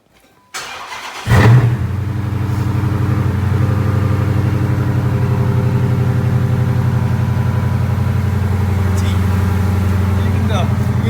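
An 8-cylinder Hemi car engine cranks briefly, catches and fires up, then settles into a loud, steady rumbling idle close by with slight revving.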